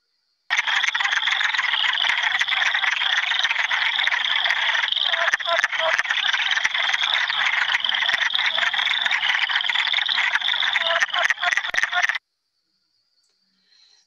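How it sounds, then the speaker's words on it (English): Wood frogs call from a spring vernal pool, a dense continuous chorus of clucking, duck-like croaks with spring peepers mixed in, loud and steady for about twelve seconds before stopping abruptly. "So this is what the wood frog sounds like."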